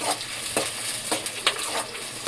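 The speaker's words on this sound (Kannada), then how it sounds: "ಬೆಳ್ಳುಳ್ಳಿ ಸ್ವಲ್ಪ ಫ್ರೈ ಆದರೆ ಸಾಕು," Garlic fries in a pan, a continuous bright sizzle punctuated by several regular stirring scrapes, heard up close with no talking.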